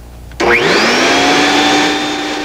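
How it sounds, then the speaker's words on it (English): A 1986 household vacuum cleaner switches on abruptly, its motor whining up in pitch and then settling into a loud, steady drone. "a vacuum cleaner"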